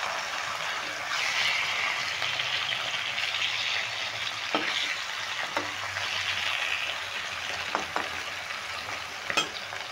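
Small mourala fish sizzle steadily in a frying pan while being stirred and flipped, a constant close hiss with occasional scraping clicks from the spatula.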